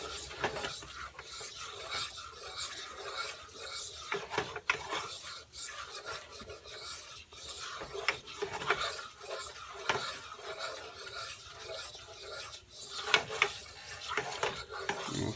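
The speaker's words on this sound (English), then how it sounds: "So keep stirring it because you don't want the flour to burn until it thickens up a little bit." Flour and onions are stirred in a pan for enchilada sauce, a continuous scraping and rasping of a utensil against the pan bottom in a steady back-and-forth rhythm, close and with no talking.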